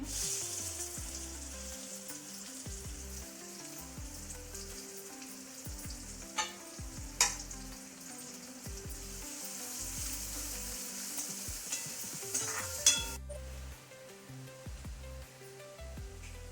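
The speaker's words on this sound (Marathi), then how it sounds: "तेल गरम झालेलं आहे, कांदा टाकते." Onion sizzles in hot oil for a masala dish, a dense continuous frying hiss with occasional stirring clinks and small pops, close and steady before a slight drop at the end.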